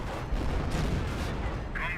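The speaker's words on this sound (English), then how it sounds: "Calliope rocket barrage ran in." A Calliope rocket barrage in Company of Heroes, a dense, continuous roar of rushing launches and explosions with a caster's voice running underneath.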